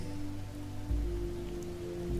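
Rain falling on the ground and on fabric overhead, with the ocean somewhere behind, a constant close patter and hiss over a deep, steady low hum, with no voices.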